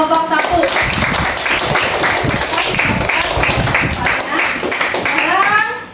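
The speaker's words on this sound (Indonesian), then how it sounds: "Kita beri aplaus dulu untuk kelompok 1." A classroom of students claps and applauds for group 1, a dense, steady burst of hand claps lasting several seconds with children's voices mixed in.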